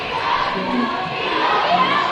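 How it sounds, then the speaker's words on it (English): A crowd at a high school basketball game roars in a sustained, fairly loud wash of cheering and shouting voices that swells slightly toward the end. "This crowd is already getting into it."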